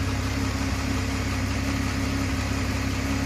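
A 2001 Jeep Grand Cherokee engine idles steadily after a water pump and thermostat replacement, making a constant low droning hum with a faint steady hiss that holds unchanged throughout.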